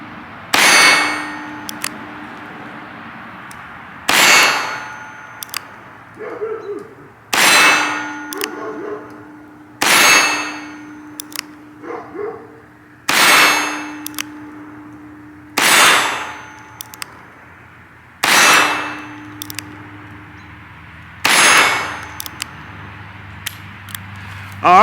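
Charter Arms .22 revolver shots ring a steel target: eight loud, evenly spaced metallic clangs, each with a long decaying ring and faint clicks between them.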